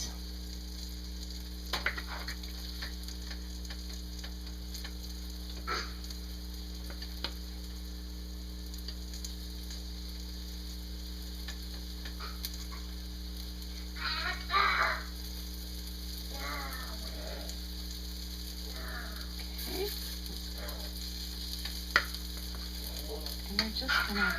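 Beef pieces brown in a hot pan for a quick beef stew, giving a soft, steady sizzle broken by a few clinks and scrapes as the pieces are moved.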